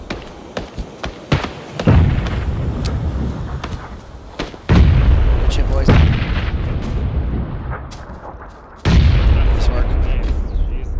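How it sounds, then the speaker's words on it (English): Gunfire from players shooting down a hill in PUBG, heavy booming shots in separate bursts with several sharp cracks, fairly close and loud, with occasional talk between volleys. "Got people down the hill shooting"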